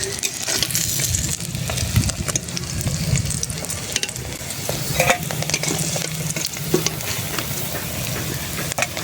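Fish frying in hot oil in a pan while cooking a Bengali fish tok dish, a loud continuous sizzle with scraping stirring sounds and occasional spatula clicks, close up.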